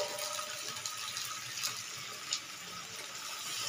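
Boiling hot water streams from a kettle into a pan of beef bhuna curry with new potatoes, a steady soft gush of pouring liquid with faint splashes, fairly quiet and without speech.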